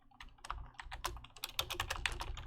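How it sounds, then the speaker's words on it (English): Rapid, close typing on a computer keyboard while setting up a Commodore BBS terminal program, dense clattering keystrokes that speed up toward the end. "if I could type"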